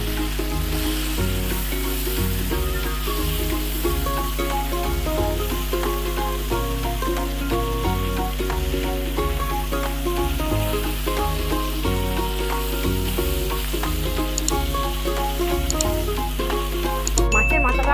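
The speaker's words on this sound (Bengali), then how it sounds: "মাছের মাথাটা আমার ভাজা হয়ে গেছে, আমি এবার তেল থেকে তুলে নেব।" Fish heads frying in hot oil in a kadai, a steady dense sizzle running the whole time under strong tonal background music, with no talk.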